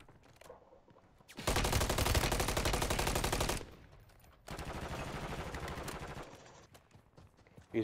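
Two sustained bursts of rapid automatic gunfire in an online multiplayer shooter game, loud and dense, separated by a short quieter gap, with no talking over them.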